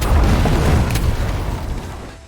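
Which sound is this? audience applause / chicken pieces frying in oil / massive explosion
massive explosion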